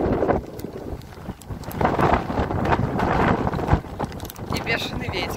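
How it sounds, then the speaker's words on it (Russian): Gusty wind buffets the microphone with heavy low rumbling and blustery surges throughout, loud and close. "И бешеный ветер."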